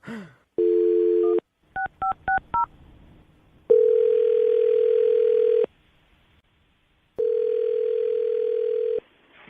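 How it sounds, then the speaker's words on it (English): A phone line tone sounds, then a quick run of dialing beeps, followed by two long ringback tones with a pause between them. "you ready to make the phone call?"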